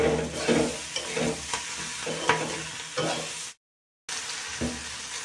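Half-boiled potatoes frying with onion seeds and turmeric, a loud close sizzle broken by stirring scrapes and clinks, cutting out briefly before resuming.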